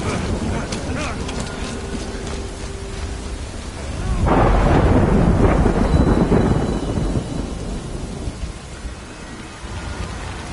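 In the Death Stranding video game, a thunderstorm brings steady, heavy rain hissing throughout, swelled by a deep rolling thunderclap partway through that slowly fades back into the downpour.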